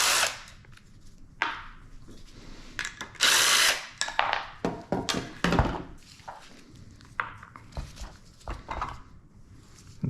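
A power tool works a tough bolt loose from a Prius electric power steering motor, delivering repeated short bursts of whirring and rattling impacts with metallic clunks between them, close and loud.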